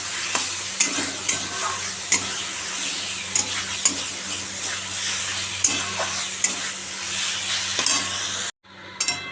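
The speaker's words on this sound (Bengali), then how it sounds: "তাহলে একটু গরম জল দিয়ে দেবো ভালো করে কষিয়ে নিই" Rohu fish curry masala, kalia-style with yogurt, sizzles and bubbles in a pan after hot water is added, with steady frying hiss and repeated stirring scrapes close by, ending in a brief cut to silence.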